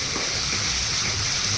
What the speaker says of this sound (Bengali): মশলা করতে করতে টমেটোগুলো কষতে হবে।